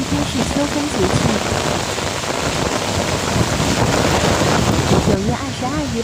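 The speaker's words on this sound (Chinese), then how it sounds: "然后过了一会儿就突然下大冰雹，小冰雹但是很密" Heavy rain with dense small hail pelts down during a sudden autumn storm in Lanzhou, a loud, steady, unbroken roar; voices can be heard faintly beneath it.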